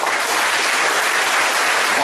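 An audience at a Tamil motivational talk claps for a district group standing up, producing a thick, continuous burst of applause that fills the whole moment at close range.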